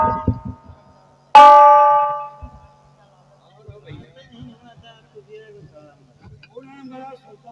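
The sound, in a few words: bell ringing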